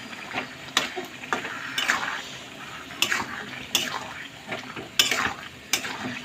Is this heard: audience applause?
no